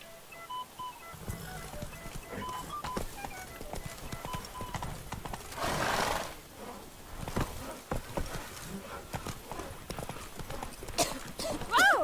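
The horse Roach trotting in The Witcher 3, a fast, even clip-clop of hooves that carries on throughout, with a swell of rushing noise midway, sparse tones, and a voice speaking briefly over it.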